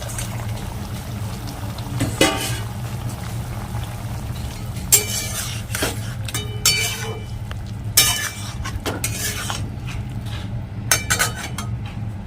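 Chilli chicken-style egg gravy bubbling in a pan, a low simmering burble under repeated metallic clinks of a spoon against the pan's rim, close and moderately loud.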